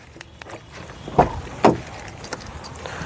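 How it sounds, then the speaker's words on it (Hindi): Car key for a Tata Tiago jangling as the car is opened, two short metallic rattles close by against a quiet outdoor background. "तो चलो जी इसे अब गाड़ी को ओपन कर लेते हैं"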